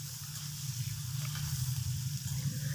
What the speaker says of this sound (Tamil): தேங்காவும் இஞ்சியும் எண்ணெயில் நல்லா வதங்கணுங்க, நல்லா வதக்கி விட்டுக்கலாம்.